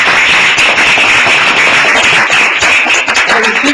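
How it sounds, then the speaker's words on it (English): Dense, loud audience applause at a lecture honoring Professor McBride's birthday: continuous close clapping from many hands fills the whole stretch without a break, and no voices cut through. "I assume you're clapping for my mother"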